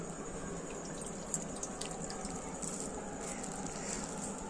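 Water trickling slowly from a container into a fuchka shell, a soft, steady pour lasting the whole stretch, close by and fairly quiet, with faint background chatter.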